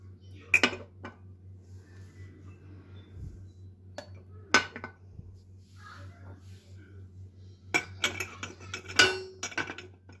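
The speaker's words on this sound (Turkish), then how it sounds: "Ve fincanlarımızı ılık su koymuş olduğumuz tenceremize diziyoruz." Several sharp ceramic clinks and knocks, spaced irregularly, as cake-batter cups are set down into a metal pot of warm water, with a low steady hum underneath.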